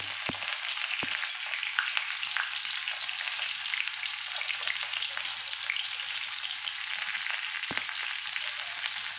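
Chopped garlic and onion fry in a pan with a steady, dense sizzle close by, broken by a few sharp crackles and pops, with no voices.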